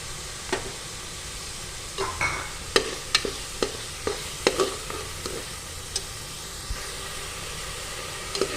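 Onions and ginger garlic paste fry in a pan for vegetable biryani: a quiet steady sizzle punctuated by a series of sharp scraping clinks as a spoon stirs, close and without talk.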